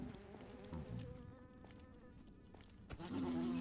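Insects buzz in a Minecraft world running the All The Mods 7 modpack, a low steady drone that wavers for a few seconds before a louder, nearer burst of buzzing swells at the end.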